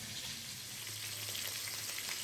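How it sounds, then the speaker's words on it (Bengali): Turmeric- and salt-rubbed fish frying in oil in a wok, a steady, fairly soft hiss and sizzle that carries on evenly without talk. "কড়াইতে তেল দিয়ে মাছ ভেজে নিচ্ছি"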